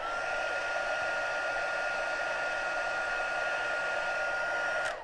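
A heat tool blows a steady, loud, close whooshing roar over embossing powder on pearlized specialty paper, continuous with no speech and cutting off at the very end.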